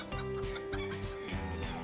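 Cartoon chickens clucking in a quick run of short, bright calls over steady background music, loud and close throughout.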